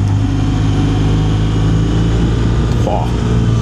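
A BMW R1200GSA motorcycle engine hums steadily at cruising speed during an autumn ride, with continuous wind rush over a low, even engine drone.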